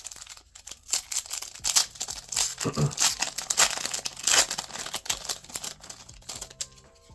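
A trading card booster pack wrapper from the Heat Wave set is torn open by hand, giving close, irregular bursts of crinkling and ripping foil with brief pauses between handlings.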